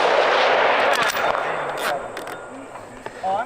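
A centerfire rifle fires at an outdoor precision rifle (PRS) match, a loud blast whose echo rolls and decays over several seconds, followed by faint clicks and a brief voice near the end.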